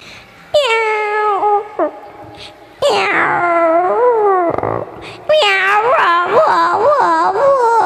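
A human voice imitates a cat in labour pain at a hospital baby's day event, with loud drawn-out wailing meows in three long bursts separated by brief pauses.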